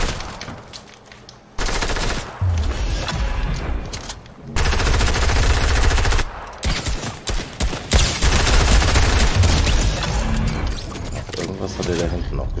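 Bursts of loud automatic gunfire from a video game fill the mix, coming in long rattling volleys with brief pauses between them, dense and close.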